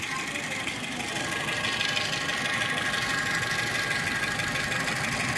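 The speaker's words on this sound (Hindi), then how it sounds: "ये देखिए फ्रेंड्स कितनी अच्छी साउंड आ गई इंजन में।" A Chevrolet Spark engine idles steadily with a continuous low rumble and faint rattling knock, no speech, holding an even level throughout.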